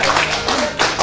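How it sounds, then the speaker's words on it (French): Applause for a contestant at the end of a quiz show final: a short burst of loud, close clapping from a small group, steady for about a second, with no voices over it. "On l'applaudit très fort."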